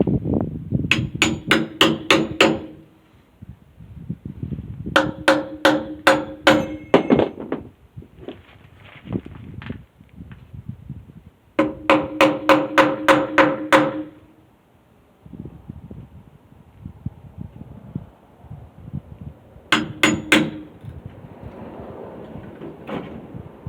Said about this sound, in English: I think I'm gonna use one of these old spikes as like a chisel to get underneath